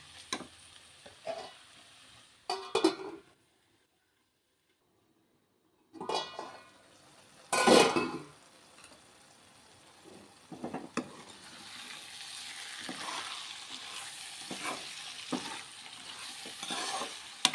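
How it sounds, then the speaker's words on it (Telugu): Thin-sliced ivy gourd frying in a pan and stirred, with sizzling and scraping strokes, a pause near the start, then a steady close crackle under repeated stirring clinks. "దొండకాయలు కూడా బాగా ఫ్రై అయ్యే వరకు మగ్గించుకుందాం"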